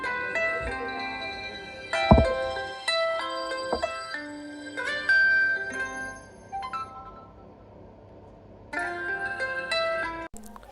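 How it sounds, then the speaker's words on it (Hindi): A ringtone melody plays from the loudspeaker of a Realme 6 Pro phone: bright, bell-like electronic notes in a clear, close melodic pattern with a short pause before the tune resumes, and no talking. "यहाँ आपको सुनाता हूँ रिंगटोन के साउंड।"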